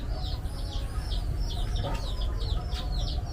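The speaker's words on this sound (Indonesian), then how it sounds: "Saya tuh dengar banyak suara anak ayam dari tadi tuh." Many young chicks cheep in a homemade chicken coop, a steady run of rapid, high, repeated peeps over a low rumbling background, with no talk.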